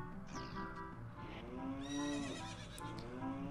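Several horses in Ocarina of Time whinny and neigh in quick succession, with a faint clip-clop of hooves underneath, close and fairly loud with no talk.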